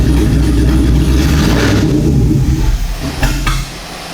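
A Chevrolet S10 pickup's engine runs loud and close, rough rumbling with revving surges before dropping off toward the end.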